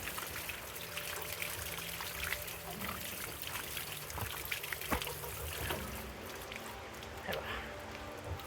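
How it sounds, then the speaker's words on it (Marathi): Cucumbers are rinsed in cold well water on a farm, a faint, steady trickle and splash of running water with light handling sounds. "आता धुवून घेतोय"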